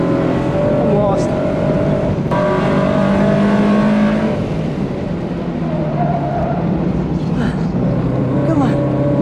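Subaru BRZ driven hard around a race track, a loud steady engine drone with shifting pitch as it revs and eases off through corners, faint tire squeal at times.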